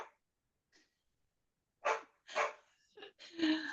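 A dog in a home gives several quick barks and yips in a short burst, moderately close and somewhat faint, after a few quieter sounds.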